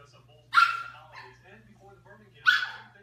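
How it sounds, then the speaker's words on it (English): A pug barks twice in high-pitched shrill yips about two seconds apart, close and sharp against a quiet room with a faint low hum underneath. "His bark was very much like a high-pitched shrill"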